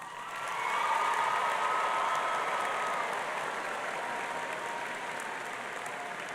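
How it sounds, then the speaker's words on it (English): A large conference crowd at a SkillsUSA opening ceremony breaks into sustained applause, swelling within the first second into a dense, steady roar of clapping that holds for several seconds before easing slightly, with no speech over it. "They deserve a round of applause."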